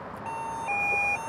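A carp fishing remote bite alarm receiver switched on gives a short electronic tone that steps up in pitch into a steady, clear beep, alone and close for about a second.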